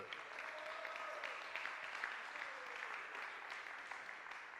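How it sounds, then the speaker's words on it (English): Steady applause from a crowd at a para shooting world championship women's 10m air pistol event, even and sustained throughout, moderately distant with no breaks. "a big applause for the New Zealand shooter"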